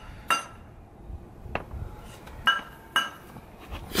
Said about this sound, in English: Trying to separate the hub from the rotor because we still need the hub